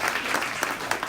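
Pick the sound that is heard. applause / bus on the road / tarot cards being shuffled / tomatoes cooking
applause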